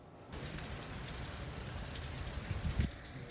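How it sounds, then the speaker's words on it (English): Rain falls steadily during a humid tropical storm in Woodland Hills, a broad, even wash of hiss that starts abruptly and continues without pause, with a few louder splashes near the end. "It's so humid and it's raining"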